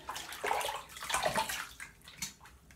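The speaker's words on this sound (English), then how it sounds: "let me rinse up here real quick" Water runs and splashes from a tap as a safety razor is rinsed mid-shave, an uneven gushing stream with sloshing surges, close and moderately loud.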